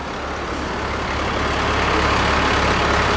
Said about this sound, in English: We've got 3 more fire engines.